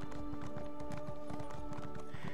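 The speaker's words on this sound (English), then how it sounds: "I'm gonna have to use the horse at this point." A horse gallops in The Elder Scrolls Online, with fast, rhythmic clip-clop hoofbeats repeating steadily and close over sustained tonal background music.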